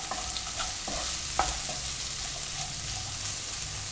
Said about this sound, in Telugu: దీంట్లో కొద్దిగా సాల్ట్ వేద్దాము, తొందరగా ఫ్రై అవుతుంది.